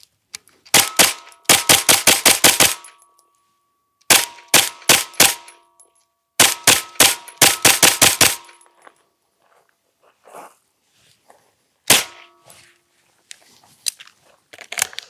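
Bursts of gunfire from a Smith & Wesson M&P FPC folding rifle at a range, sharp loud shots in rapid strings of about five to eight, separated by pauses, with a few isolated shots near the end.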